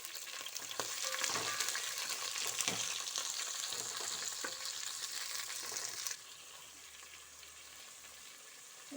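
Carrot, capsicum, green chilli, onion and beans sizzle and fry in a hot pan with oil, a steady close crackle broken by stirring scrapes, easing to a quieter simmer for the last few seconds.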